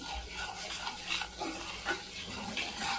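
Spices, turmeric and red chili, being stirred into sabji frying in a pan, with a continuous hiss of sizzling oil and scraping spoon strokes against the metal, close and steady with no talk.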